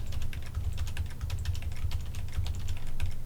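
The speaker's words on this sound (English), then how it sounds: "I apologize if the tapping of my keyboard is getting really annoying" Steady, rapid tapping on a computer keyboard, clicks close and continuous over a low background hum, with no voices.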